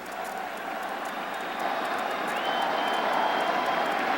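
A large Yankee Stadium crowd at a 1996 American League playoff game between Texas and New York cheers in a steady, distant roar that swells slightly toward the end, with no voices standing out.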